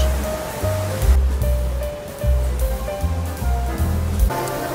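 Indoor waterfall at Jewel Changi Airport, a steady roaring rush of falling water that fills the space, with low, blocky background tones pulsing underneath and no talking.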